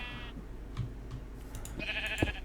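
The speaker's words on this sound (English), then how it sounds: "Put your walls in before you put the sheep in" Sheep bleating in Minecraft with the FTB Unleashed modpack, a couple of short, nasal baas close by, the second one brighter and more drawn out, heard over a low background hum.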